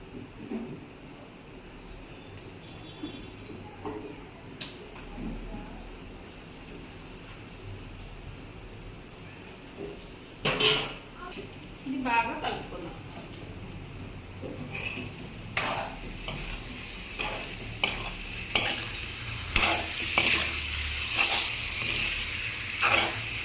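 Washed chicken goes into a hot pan for gongura chicken curry. The frying crackle swells steadily, and spoon scrapes and clatters from stirring grow denser toward the end, close and with no talking.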